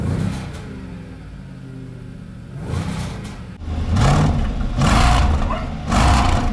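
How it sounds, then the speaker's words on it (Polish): A Jaguar F-Pace's supercharged 5.0 V8 with 550 horsepower idles with a low burble, then revs loudly in several sharp, rising blips close by. "V8. Serducho, które ma mechaniczny kompresor, które ma 550 koni mechanicznych i które ma 700 Nm."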